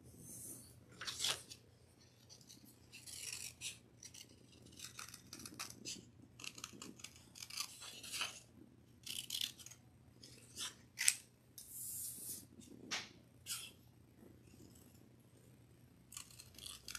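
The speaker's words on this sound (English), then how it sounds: "You want to cut these pieces out." Scissors snip out small paper pieces for a toilet paper roll craft, making repeated close, crisp cuts in irregular bursts with short pauses between them, no voices present.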